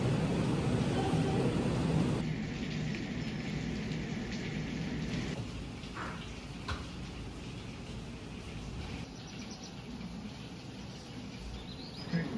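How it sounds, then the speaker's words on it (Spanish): Steady rain pours down in a thunderstorm, a dense close hiss with low rumbles of thunder beneath and a few faint bird calls. "la lluvia tan rica que se empezó a sentir, empezó a parar"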